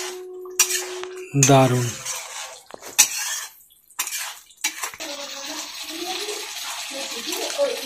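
A metal lid lifted off a pan of Bengali egg curry (dim kosha) in a home kitchen, one ringing clank followed by clinks and scraping of utensils, with someone speaking briefly.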